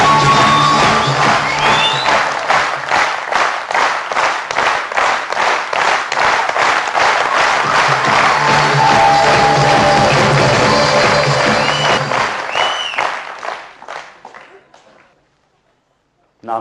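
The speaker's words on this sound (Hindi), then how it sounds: "पहली बार सूरत में इतने अच्छे दोस्त मिले हैं जो पूरे हिंदुस्तान में सबसे ज्यादा तालियां बजाते हैं।" Loud, sustained applause and clapping from a seminar audience in Surat, with scattered cheers and whoops, carrying on for about thirteen seconds before fading away to silence.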